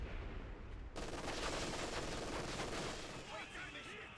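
Heavy machine gun fire in a war video game, a dense, loud burst of rapid shots starting suddenly about a second in and continuing as a sustained clatter with crackling impacts.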